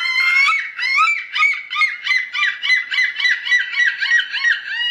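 A voice imitates seagull calls with a rapid series of about a dozen nasal, honking squawks in a steady rhythm, loud and close with no other sound.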